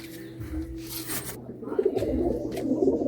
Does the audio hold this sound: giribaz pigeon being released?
yes